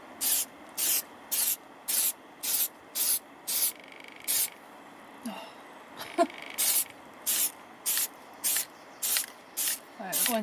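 Aerosol cans of Plasti Dip spraying a coat onto a Renault Clio, short even bursts of hiss in a regular rhythm with brief gaps between them and a few faint knocks in a pause.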